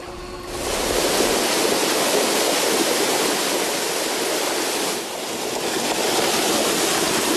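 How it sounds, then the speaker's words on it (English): Treated clean water from a treatment plant pours steadily into Whitewood Creek, making a continuous broadband rush that stays loud and even throughout, with a brief dip midway. "Every day, 4 million gallons of clean water pours out of the treatment plant and into the Whitewood Creek."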